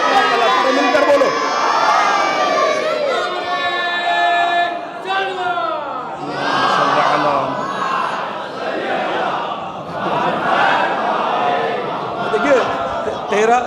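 A congregation at a religious mahfil gathering chants slogans together in unison, loud and close, in rising and falling waves of many voices answering one another, with brief dips between phrases.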